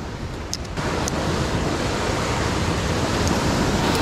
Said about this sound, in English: There's a lot of really fast moving water.